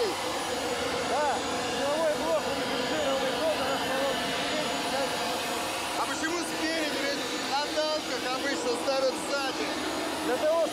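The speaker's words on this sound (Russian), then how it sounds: "Это работает дополнительный агрегат питания." An auxiliary power unit runs on an Armata armoured personnel carrier, giving a steady, loud, continuous engine roar with a jet-like whine throughout while people talk over it.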